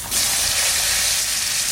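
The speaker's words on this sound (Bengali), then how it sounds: "আমি সেই তেলের মধ্যেই আলু দিয়ে দেবো" Potato pieces hit hot oil in a wok in a village kitchen, bursting into an abrupt, loud, steady hissing sizzle that fills the whole moment.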